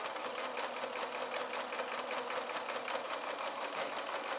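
A sewing machine stitches a second seam along a pettiskirt casing, its needle running in a fast, steady, close-up whir for the whole stretch with no talk.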